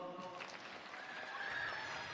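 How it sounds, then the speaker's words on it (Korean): Fans applauding and cheering at the AAA awards ceremony for actor Kim Seon-ho, a faint, steady wash of distant crowd noise with a high shrill cheer rising near the end. "우리 팬분들도 굉장히 즐겁게 환호를 해주고 계시는데요"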